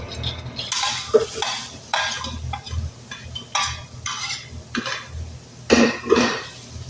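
Onion, garlic and ginger hitting a pan for adobong puti, with a spoon scraping and stirring in short bursts over a low, soft sizzle; close-up metallic clinks come and go with no talking.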